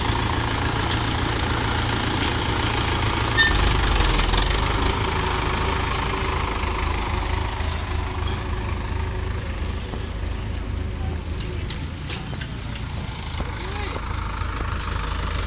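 A motorcycle engine idles steadily with a low, even throb, holding close and loud throughout under a constant rumble, with a brief surge near the start and a voice faintly present in the background.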